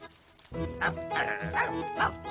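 Cartoon ladybird character imitating a sheepdog, a voice giving a series of four or five yapping barks in quick succession, fairly close and loud, from the animated series Ben and Holly's Little Kingdom.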